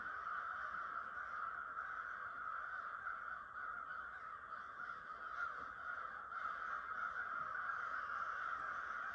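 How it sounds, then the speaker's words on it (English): A large flock of crows circling overhead makes a continuous, dense chorus of overlapping caws, steady and moderately distant throughout. "I've never seen so many crows in my life."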